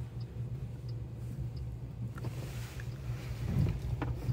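A self-driving car moves along a city street, giving a continuous low engine and road hum with a faint ticking pulse, some passing traffic noise and a brief louder swell near the end, without talk.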